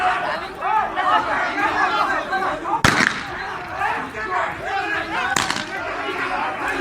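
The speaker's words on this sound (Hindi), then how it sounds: "आप गोलियों की आवाज भी सुन सकते हैं" Gunshots ring out during a clash between two sides over a land dispute in Patli village, Palwal, as two sharp cracks over constant crowd shouting and chatter.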